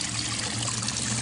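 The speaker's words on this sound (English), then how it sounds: "The Waterfall" Water trickles steadily down a homemade koi pond waterfall filter, a continuous close splashing flow with no voices over it.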